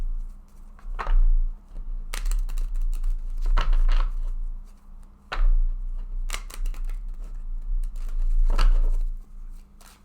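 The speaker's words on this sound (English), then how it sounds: "So I'm just going to go ahead and shuffle this deck." A tarot deck being shuffled by hand: repeated riffling, crisp card bursts come in uneven clusters over a low steady hum, close and fairly loud, with no talking.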